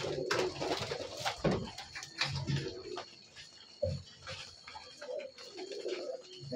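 Several high-flying pigeons coo in soft, repeated low throaty bursts, close by and moderately loud, with no talking.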